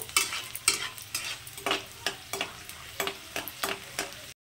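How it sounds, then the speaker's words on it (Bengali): Peanuts are fried in a pan and stirred, giving a faint sizzle broken by about a dozen rhythmic scraping and rattling strokes, close by and with no voices. "তো আমি এখন বাদামটাকে খুব সুন্দর করে ভেজে নেব।"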